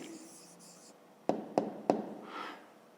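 Pen strokes writing an answer on paper: three sharp, distinct taps or marks spaced about a third of a second apart, followed by a soft scratch, close and fairly quiet.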